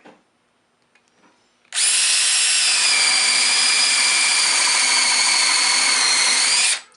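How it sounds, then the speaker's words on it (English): A Makita power drill with a 5/8 inch bit bores into hard walnut wood, a loud sustained whine that starts abruptly after a quiet moment, holds steady for about five seconds, then stops. "I've got my Makita with the 5/8 inch bit."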